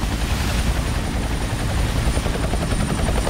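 A helicopter's rotor thumps steadily and loudly, a constant rhythmic chopping drone close by with no talking.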